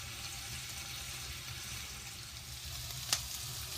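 Diced mirepoix fries in a pan for a stew with elephant garlic and potato, giving a steady low sizzle with faint crackle throughout and one brief sharp tick near the end. No voices.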